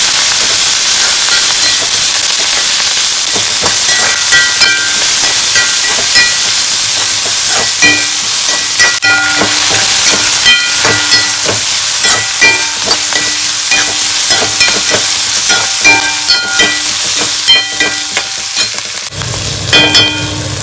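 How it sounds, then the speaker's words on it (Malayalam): Crushed chili and Kashmiri chili powder sautéing in hot oil in a pan, a loud continuous sizzle and hiss with scattered crackles and occasional stirring scrapes throughout. "ഇതെല്ലാം കൂടെ നമുക്ക് നമ്മുടെ ചട്ടിയിലിട്ടൊന്ന് വഴറ്റാം കേട്ടോ"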